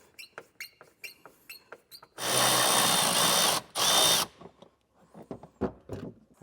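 A power drill backing screws out of an interior panel on a 2019 Mitsubishi, two loud whirring bursts of about a second and a half each, framed by small clicks and handling noises.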